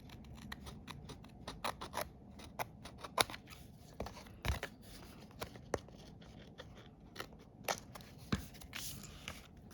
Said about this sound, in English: just cut it off with your scissors